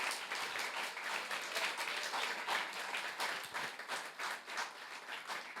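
A church congregation applauds in a sustained, even burst of many hands clapping, fairly near and continuous throughout with no talking.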